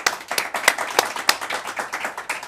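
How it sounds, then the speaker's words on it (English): A small audience at a show claps spontaneously, a sparse, uneven patter of distinct individual hand claps at close range rather than a dense roar. "And there was no applause sign either."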